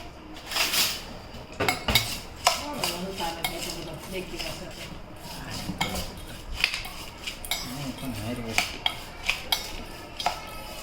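A spoon mixes chowpatty bhel in a dish, scraping and clinking against it in a busy, irregular stream of small metallic taps and rustles, close up, with no talk.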